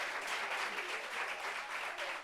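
A small group claps steadily and continuously, an even patter of hands throughout with no cheering.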